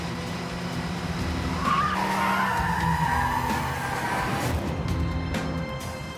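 A car skids on a road with loud squealing tires and a rising and falling screech over the rumble of the engine, continuing for several seconds with no talking.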